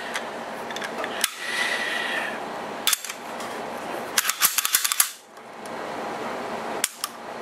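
A Sig P250 pistol is reassembled after a session of shooting, giving sharp metallic clicks and clacks of parts sliding and locking together up close over a steady background hiss, with no voices.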